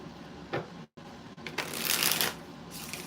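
Tarot cards shuffled by hand in a quiet room: a short riffle, a brief pause, then a longer, louder stretch of dense papery flicking that fades and returns faintly at the end, with no talk over it.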